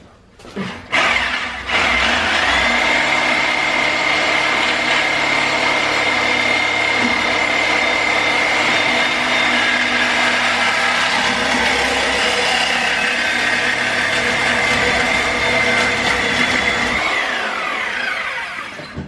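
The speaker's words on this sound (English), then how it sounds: "Got the handy dandy Sawzall." A Sawzall reciprocating saw cutting through truck exhaust tubes on a Hemi Ram in a garage, running as a loud, steady buzzing drone for about fifteen seconds after a few short starts, then winding down.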